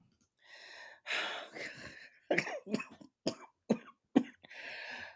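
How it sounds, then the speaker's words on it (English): A person coughs in a series of harsh, throaty bursts, close and loud, with gasping breaths and throat clearing between the fits. "I'm coughing."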